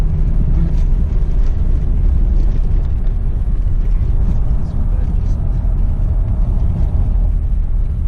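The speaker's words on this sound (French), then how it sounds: "il accélère fort" A loud, deep V8 engine roars continuously from inside a moving Rolls-Royce accelerating hard, with people talking over the rumble.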